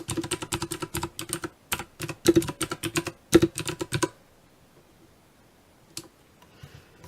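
Rapid clicking of a computer keyboard, with bursts of keystrokes and a few heavier key presses, fills about four seconds. Near silence follows, broken by a couple of isolated clicks.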